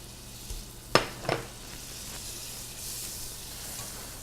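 Butter goes into a microwave-safe dish of boiling water for a chocolate pie filling: two soft knocks, then a faint, steady bubbling hiss carries on alone.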